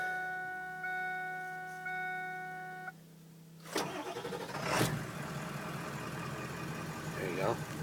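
A 2000 Ford F250 diesel pickup truck with nearly 195,000 miles starts after a chime-like dash tone, cranking briefly before catching into a loud, close, steady diesel idle.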